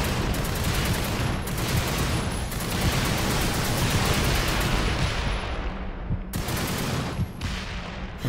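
Sustained loud gunfire from the shooter game Fuse, in a lab setting near a central reactor, a continuous rapid automatic volley with a brief gap before it resumes, no voices over it.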